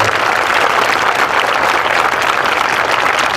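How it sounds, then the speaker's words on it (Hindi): A large audience at a school annual function claps loudly and steadily in a dense, continuous burst of applause that fills the whole stretch with no pauses. "इसलिए आप लोग अपनी अपनी मां के लिए एक बार जोरदार ताली बजा दीजिए।"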